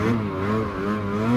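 A 2020 Ski-Doo Summit Expert snowmobile engine revving under quick throttle stabs, a steady, loud drone that swells and dips slightly, heard up close with no talking.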